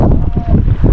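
Strong wind buffeting a microphone on a fishing boat in the morning, loud low rumbling gusts filling the whole moment, close and without talk.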